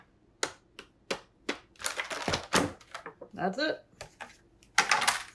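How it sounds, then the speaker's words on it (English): Hard candy lollipops being popped out of a plastic mold, a series of sharp clicks and snaps close by with plastic rustling between them, and a voice speaking briefly among the clicks. "Now we're going to pop these out."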